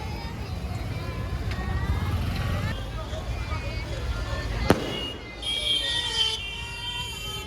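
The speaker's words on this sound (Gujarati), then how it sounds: "ફટાકડો ફોડે." A single sharp firecracker burst cracks out during a Holika Dahan festival celebration, standing out over steady crowd noise, background chatter and faint traffic-like rumble.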